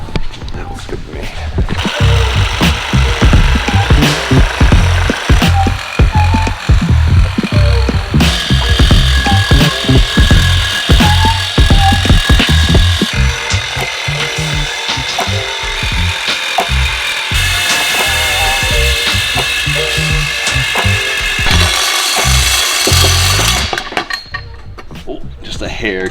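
A power saw cuts through a car drivetrain part with loud, gritty, uneven rasping, shifting in pitch as the blade bites, mixed with clinks of metal. Voices are heard at times.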